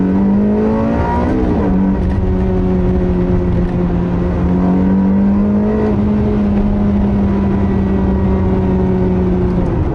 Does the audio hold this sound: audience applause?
no